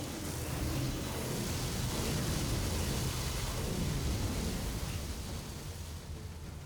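Windflare storm in Gears of War 4, a steady roaring wall of wind noise with deep rumbling low end, loud and continuous throughout without a break.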